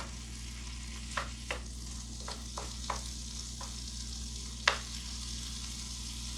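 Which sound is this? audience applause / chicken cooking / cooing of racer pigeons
chicken cooking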